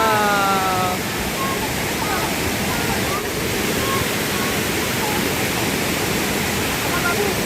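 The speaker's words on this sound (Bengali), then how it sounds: "সুন্দর লাগতেছে ঝর্ণাটা।" A waterfall roars as a steady, loud broadband rush that never lets up. Faint voices sit under the water noise near the start.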